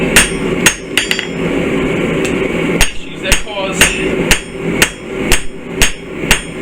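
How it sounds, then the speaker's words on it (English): Hammer blows drive bevels into place in a workshop, a dozen or so sharp loud strikes, sparse at first and then settling into a quicker even rhythm near the end, with a brief voice early on. "So now we're gonna hammer in these bevels."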